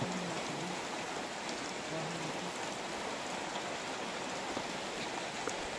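Heavy rain falls in a steady, dense hiss during a power outage, continuous and fairly close with no talking over it.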